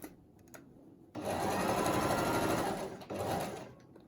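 An electric sewing machine stitches a fabric face mask, its motor whirring in a fast, even buzz that starts, pauses briefly and runs again, close and fairly quiet.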